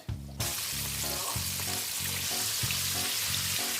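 Chicken pieces fry in hot oil, a loud, steady sizzle with bursts of crackle and popping that carries without a break, with no voices over it.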